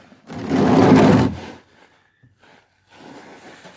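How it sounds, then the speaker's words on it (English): A wrench cracks loose the 17mm transmission drain bolt on a 2013 Polaris Sportsman 90, giving one close, loud grinding burst of about a second, then a few faint clinks and a softer rustle. "Down below here on the transmission there's a 17mm bolt. Crack that loose."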